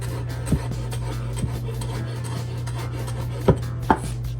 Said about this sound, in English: you want to chop your parsley